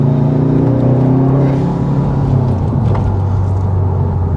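A Subaru WRX STI with 330 bhp accelerates hard along a twisty road, its engine note rising in pitch as it revs, loud and steady from inside the car with no talking.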